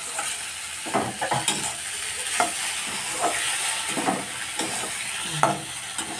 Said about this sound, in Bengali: মাছের তেলটা এখন দিয়ে দিলাম, একটু নাড়াচাড়া করে ব্যাস হয়ে যাবে।